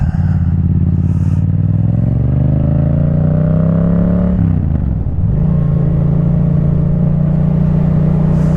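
A 2024 Yamaha MT-07 motorcycle engine drones steadily while riding on a Dutch road beside the water, loud and close, with the pitch rising then dropping at a gear change before settling into a steady hum.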